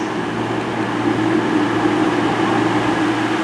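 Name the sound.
two-coach Great Western Railway train at Newton Abbot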